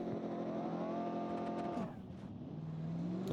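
V8 race car engine in the driving game BeamNG.drive, revving loudly and climbing in pitch as it accelerates, then easing off and rising again under a gear change, close and continuous.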